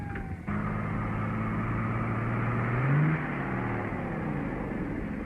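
Car speeding along a road in an old film, a steady engine whine and road rumble that swells briefly as the engine note rises, then holds at a constant pitch, continuous and fairly close.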